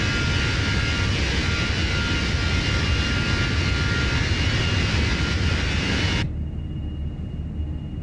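Airbus A320 jet engines roar at takeoff thrust in Microsoft Flight Simulator, a loud steady broadband rush that cuts off abruptly near the end, leaving a quieter cabin hum.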